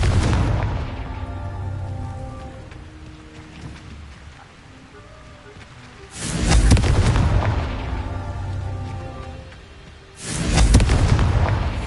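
Confringo spell explosions from the Hogwarts Legacy video game: two loud, booming blasts, one near the middle and one near the end, rising over a quieter tonal game backdrop.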